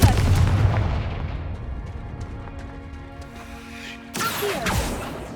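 Spell blasts cast in Hogwarts Legacy, a loud boom at the start followed by a rumbling tail, then a second sharp burst near the end, with game music underneath.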